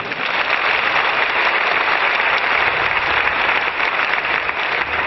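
A large crowd at a Lenten youth gathering in Saigon breaks into sustained applause, a loud, continuous roar of clapping filling the hall without pause or voices.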